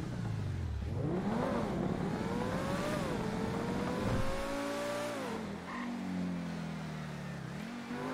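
A car engine revs in the video game GTA 5 with rising and falling pitch sweeps as it accelerates and shifts, loud and continuous, with no talking.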